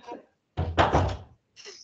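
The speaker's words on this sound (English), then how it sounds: "I'm gonna shut the door." A door is pushed shut indoors with a single dull thud and a short rattle, close and moderately loud, preceded and followed by faint household noise.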